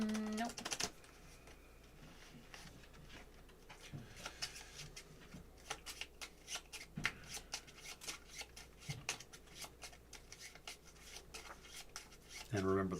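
Playing cards for the card game Set a Watch being shuffled, soft riffling bursts and flicks repeated several times, quiet and close.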